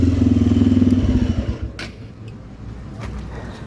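Motorcycle ridden at night in Choma, its engine loud and droning close by at first, then fading to a softer rumble with passing traffic noise.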